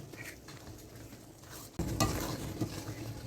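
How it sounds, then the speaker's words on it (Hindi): Semolina halwa roasting in ghee in a kadhai, a spoon scraping and stirring it in a steady sizzle that turns louder and busier midway, with pan clinks and no talking. "और थोड़ा सा इसको भूनेंगे जब तक ये कढ़ाई को छोड़ ना दे और घी अलग ना हो जाए"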